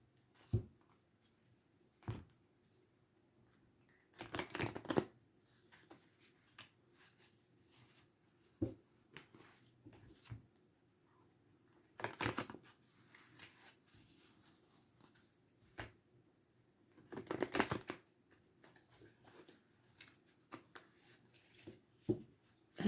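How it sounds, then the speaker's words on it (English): Tarot cards are shuffled during a reading, giving scattered soft riffling bursts and sharp card slaps at irregular intervals against a very quiet room. "I can see my shuffling's going to get worse and worse."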